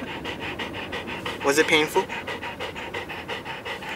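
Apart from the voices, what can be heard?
dog panting in a car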